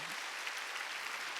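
A church congregation claps along during a Korean worship service, a dense steady wash of many hands clapping continuously at close range with no clear talk over it.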